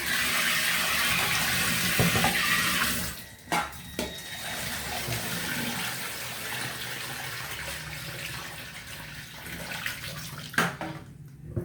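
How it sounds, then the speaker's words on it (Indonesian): Water pours steadily into a container of soybeans being soaked for making tempeh chips, a continuous rushing fill that eases off partway, with a few knocks and splashes. "setelah itu kasih air, terus proses perendaman"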